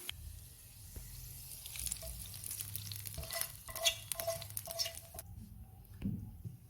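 Tadka of green chilli and kasuri methi sizzling in hot oil after the flame is turned off, a steady soft frying crackle with occasional stirring scrapes, close and quiet, no voices.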